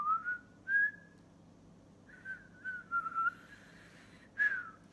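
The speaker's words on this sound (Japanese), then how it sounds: "口笛吹けますか？ 口笛吹けると思うよ。" Several short, clear whistled notes, some sliding in pitch, with brief pauses between phrases; fairly close and moderately loud over quiet background hum.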